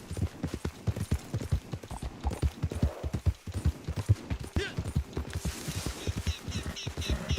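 Horse hooves clip-clop in a rhythmic run through a western video game set in the town of Rhodes, with a steady pattern of near, moderately loud footfalls while game sounds rise in the background.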